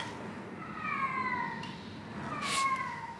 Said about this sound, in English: Maybe this is a scary sounding cat there.